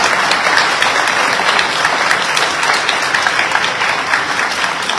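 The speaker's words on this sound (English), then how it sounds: "I think everybody deserves a big round of applause for all the time and effort" Audience at an all-candidates election forum giving sustained, loud applause, dense continuous clapping from a full room with no break.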